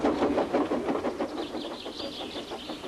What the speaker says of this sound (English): All Henry could do was to watch the trains rushing through the other tunnel.